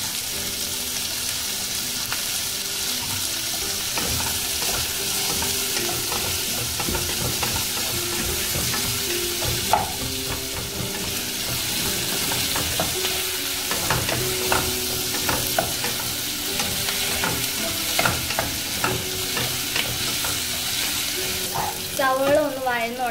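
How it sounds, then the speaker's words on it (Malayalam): Onions sauté with a loud, continuous sizzle as a spoon scrapes and clinks around the pan during masala dosa filling preparation, with a brief watery splash near the end. "സവോള ഒന്ന് വഴന്ന് തുടങ്ങിയിട്ടുണ്ട്."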